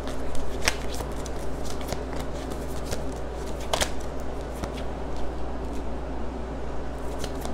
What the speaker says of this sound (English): Let me pull a couple more cards.